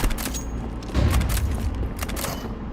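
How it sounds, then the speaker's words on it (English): A flashbang grenade goes off in a Counter-Strike 2 match, a dull boom about a second in, set within a dense, loud wash of continuous gunfire and in-game noise. "I throw the flashbang."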